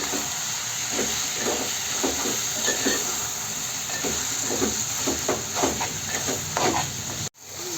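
Mutton curry sizzles steadily in a hot pan while a spoon stirs it in repeated scraping strokes, with a constant steamy hiss beneath; the sound cuts off abruptly near the end.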